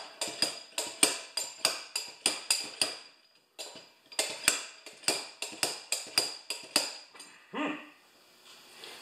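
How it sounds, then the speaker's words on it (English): A slide hammer strikes repeatedly while freeing a rusted mower blade adaptor: sharp metallic clanks in quick rhythmic bursts of about twenty blows with a short pause midway, close and moderately loud. "So I'm just going to use my slide hammer"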